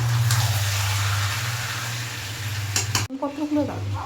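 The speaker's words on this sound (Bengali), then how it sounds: "এবার দেখুন ম্যারিনেট করা মাংসটি এর মধ্যে দিলাম। এবার এটা কষাতে থাকবো, কষিয়ে নেওয়া হচ্ছে" Marinated chicken sautéing in a pot for homemade chicken biryani gives a steady close sizzle with stirring scrapes, then a sudden cut to quieter, more open cooking sounds near the end.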